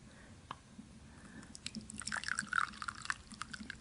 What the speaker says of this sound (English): My tea straight out of the pot just to taste it before I add any creamer.